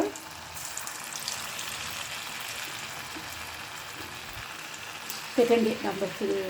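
Potato manchurian balls frying in hot oil, a steady soft sizzle throughout that swells into louder, sharper crackling near the end as more batter drops in.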